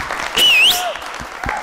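Applause from a studio audience on a family quiz show, a dense patter of clapping with a bright, sweeping musical tone or whistle rising above it partway through.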